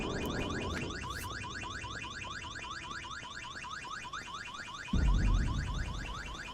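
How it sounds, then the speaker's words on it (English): An alarm goes off inside a courthouse in the zombie survival game Vein, a rapid repeating electronic whooping pattern that cycles loudly and continuously, with a low rumbling thud joining near the end. "They spawned me in the courthouse and immediately set the alarm off."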